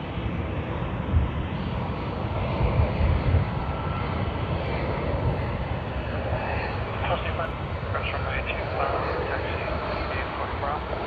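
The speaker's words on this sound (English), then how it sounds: "We do have China Eastern coming in from Shanghai on the A330-300, registered as B-300P." China Eastern Airbus A330-300 arriving at Sydney from Shanghai, a continuous loud jet engine rumble that swells slightly mid-way, with someone speaking over the noise.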